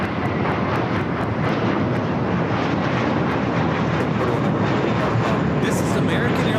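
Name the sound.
American Airlines Airbus A321 taking off to Boston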